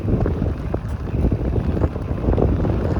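Wind buffets a microphone in steady, heavy low rumbles while riding a bike along a city bike lane in Abbotsford, loud and gusty with no voices.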